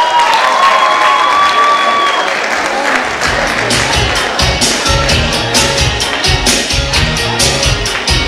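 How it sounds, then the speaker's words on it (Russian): Loud, dense applause from a concert audience at a Teachers' Day show in Khasavyurt, a sustained wall of clapping with some cheering that carries steadily through the whole stretch. "Давайте поддержим аплодисментами"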